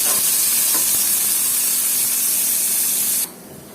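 Onions frying in hot oil in a pan, a loud continuous sizzling hiss close by that cuts off abruptly near the end.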